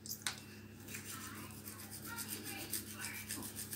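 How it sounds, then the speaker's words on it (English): A toothbrush with Colgate toothpaste scrubs lightly along the gumline where the teeth meet the gums, giving a soft, quick, rhythmic brushing rasp up close for the whole stretch. "You're gonna lightly scrub where your gum and your teeth mix"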